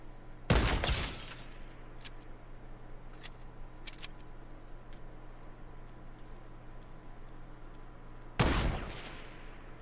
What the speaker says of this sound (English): I'm just taking shots at everybody right now.